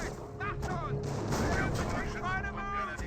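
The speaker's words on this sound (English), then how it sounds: "We got a regular barrage here." Artillery barrage in the Company of Heroes video game, rumbling booms and gunfire continuing steadily under a commentator's voice talking throughout.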